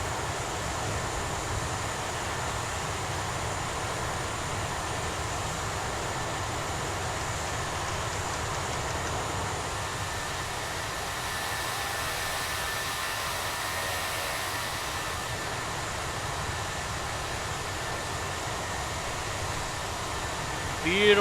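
Airbus A319 from the LVFR add-on roaring on takeoff in Microsoft Flight Simulator, a steady, dense broadband engine rush that holds loud and unbroken throughout, with a faint voice mixed in.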